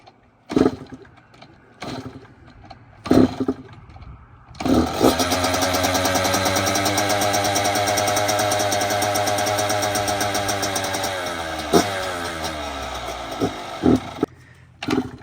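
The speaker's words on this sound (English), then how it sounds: "See how many kicks it takes to start this up." A dirt bike sitting in a cold garage with the choke on is kicked several times with sputtering coughs, then catches and revs in a loud buzzing drone before dropping back and stuttering.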